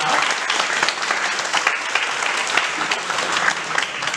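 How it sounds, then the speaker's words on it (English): Audience at a panel discussion gives a steady round of applause, dense clapping from a room of people that holds evenly for several seconds with no voices on top. "Please, everyone, a big round of applause if you have."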